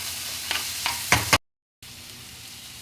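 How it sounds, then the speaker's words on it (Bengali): Fish and potato pieces frying in a pan, a soft sizzle broken by a few scraping strokes of a spatula, then a brief gap of silence before a quieter sizzle resumes. "এবার সবগুলোকে দিয়ে সুন্দর করে একটু ভাজা ভাজা করবে"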